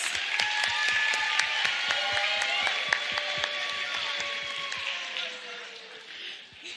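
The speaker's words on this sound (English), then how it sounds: "Let's give all our contestants one more round of applause." An audience at a talent show applauds the contestants with a dense round of clapping that starts full and slowly thins and fades toward the end. The clapping is close and continuous, with no voices over it.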